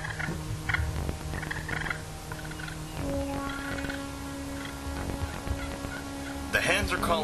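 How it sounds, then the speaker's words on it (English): Wild turkey hens calling softly outdoors during a youth turkey hunt, scattered yelps and clucks fairly faint over a rustling, busy background with no talking. "The hens are calling softly, and Jesse does the best he can to imitate t"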